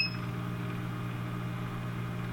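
An automatic egg incubator turns its eggs with a steady low motor hum and faint mechanical whir, opening with a short high beep, continuous and close.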